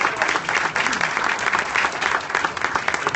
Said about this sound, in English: Let's give Craig a round of applause